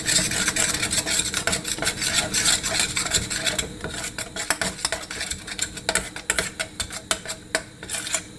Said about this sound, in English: I'm going to pour the flour straight on top of it. Not too much, just a little bit, so you can mix it into the melted butter.